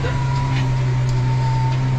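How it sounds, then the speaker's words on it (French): A Fendt tractor approaches along a farm track during stubble cultivation, its engine a steady low drone that holds even and continuous throughout, with no talk over it. "il y a un tracteur qui arrive,"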